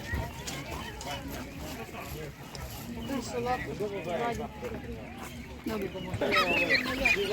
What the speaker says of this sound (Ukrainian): Так, качка.